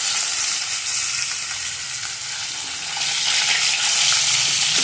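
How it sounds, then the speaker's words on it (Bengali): Fish sizzles steadily in a pan of hot oil, a loud, continuous crackling hiss that swells slightly toward the end, with no voices. "মাছ ভাজা খাওয়া হবে।"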